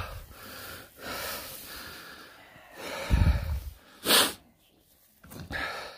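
A newborn calf, just delivered in an assisted birth, breathes in rough, uneven puffs, with a deep, heavy snort midway and a sharp, sneeze-like burst soon after, all close by.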